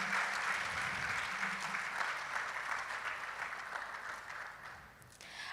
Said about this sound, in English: Please let's give another round of applause to Dr.